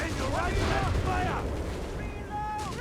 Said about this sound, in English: landing the number 69 percussive grenade, which is meaning it's a impact grenade, or, you know, it hits, explodes once it hits something